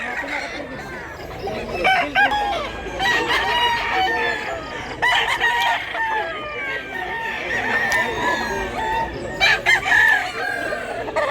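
Chickens cluck loudly and close by while a rooster crows repeatedly, a busy barnyard chorus that continues without a break.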